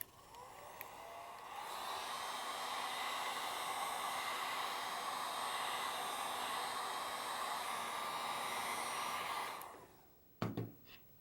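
A handheld heat tool blows steadily, warming a clay board primed with beeswax: a loud, even whooshing hum runs for about nine seconds, then cuts off and leaves a few faint knocks.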